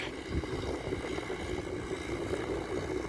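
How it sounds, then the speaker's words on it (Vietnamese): Low, steady engine drone from a Massey Ferguson 290 tractor running slowly while tilling a dry paddy field, fairly faint and distant, with a brief thump near the start and some wind noise. "Anh Đạt đang lái các bạn, lái máy cày."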